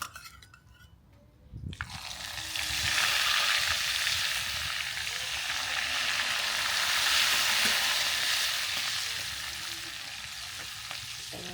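Green chillies crackle and sizzle in hot oil with asafoetida for a tempering, cooked outdoors in a garden; after a quiet start the frying bursts in loudly and holds as a steady, close hiss with small pops throughout.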